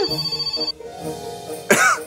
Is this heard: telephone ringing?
yes